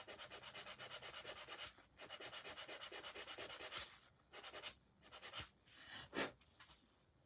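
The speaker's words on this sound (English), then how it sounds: "Just a light sanding." Light hand sanding along score lines on a wooden spindle bell for farmhouse decor, a soft steady rhythmic rubbing rasp, quiet and close, with a few sharper strokes toward the end and no talking.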